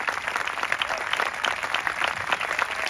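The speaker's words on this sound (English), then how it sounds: "Keep that applause going to the Dunich dancers" A crowd at an Australia Day morning ceremony applauds the Dunich dancers, with dense, steady clapping that carries on evenly throughout.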